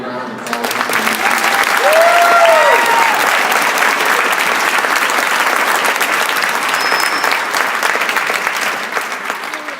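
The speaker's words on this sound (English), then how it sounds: "can you all just give a big round of applause?" Loud audience applause at a school band concert with cadet and jazz bands, a thick steady wash of clapping lasting about ten seconds, with a few faint whoops and voices mixed in.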